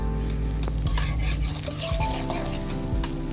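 Onions frying in hot oil in a wok, a steady sizzle broken by scraping stirs and a few metal clinks from close by.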